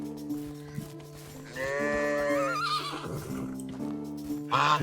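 Horses in a medieval village in the game Medieval Dynasty, a long loud whinny rising and wavering in the middle, with other neighs and farmyard sounds around it, close and with no talk.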